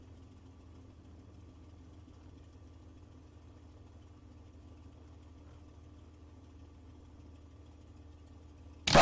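A P-51 Mustang aircraft engine idles while taxiing with a steady low drone, quiet and unchanging throughout, ending with a sudden short burst of noise.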